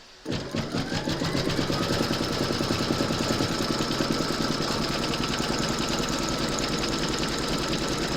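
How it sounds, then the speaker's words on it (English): Embroidery machine stitching a round that secures batting onto fabric in a hoop, a continuous fast rhythmic mechanical whir starting abruptly and running steadily, close and alone. "Then pop your hoop into your machine and stitch round number 2"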